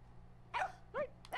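A dog barks three times in quick, yelping bursts, fairly faint, over a low steady hum with no talking.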